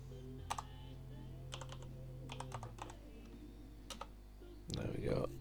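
Rapid bursts of keystrokes on a computer keyboard come in short clusters, close and crisp, with a low hum underneath and a louder shuffle at the end.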